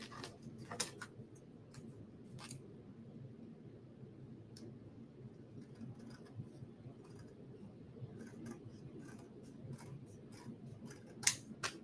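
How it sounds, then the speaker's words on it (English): Scissors trimming the excess off a card base: faint, sparse snips and small crisp clicks at irregular intervals over a steady low room hum, quiet and close, with no talking. "so I'm gonna trim off the excess."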